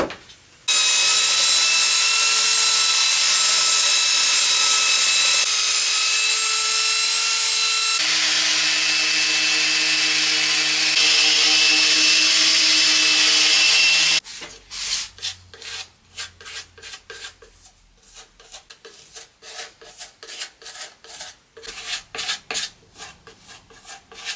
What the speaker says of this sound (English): I'm going to sand it first, see how it looks. I might need to just put a little bit of filler in there, but let's give it a sand.